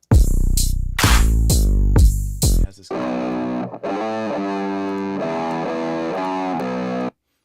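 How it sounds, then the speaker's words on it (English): Heavily distorted tear-out bass designed in Ableton opens with four loud, snarling hits. A brief voice follows, then a sustained, growling, pitch-shifting synth bass line with a gritty texture. "just making some tear out sounds for this one song that I was making"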